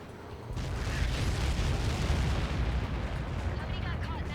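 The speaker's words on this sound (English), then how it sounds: "How many got caught in that explosion?" In the Ace Combat 7 flight game, a huge explosion from an impacting Helios projectile: a sudden heavy boom followed by a long, loud rumbling roar that slowly fades.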